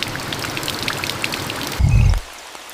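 Rain falls steadily outside a tiger den, a soft continuous patter of drops that briefly swells into a louder rush before fading to a quieter trickle.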